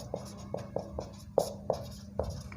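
Chalk or marker writing on a board during a Hindi physics lesson on Bohr's atomic model, heard as a series of short, light taps and strokes at an irregular rhythm, fairly close and quiet over a low room hum.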